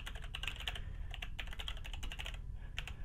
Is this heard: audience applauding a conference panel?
no